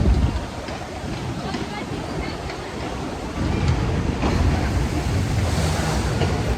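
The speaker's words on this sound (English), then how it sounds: "Intense splash." Water rushes and splashes on the Tiger Rock flume ride at Chessington theme park, a broad, loud roar mixed with wind buffeting the microphone that swells about halfway through.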